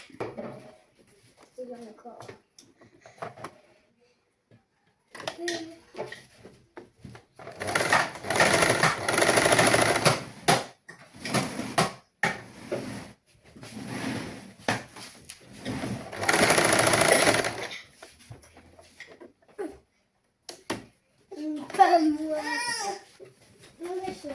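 A sewing machine stitches the back neck and shoulder joint of a saree blouse in fast mechanical bursts, running in several stretches between pauses while someone talks and a child babbles and cries nearby.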